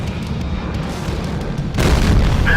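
A tank video game with a T34 dug in hull-down: a tank gun shot bounces off armor. A steady engine drone runs first, then a loud, sudden boom with a rolling rumble near the end.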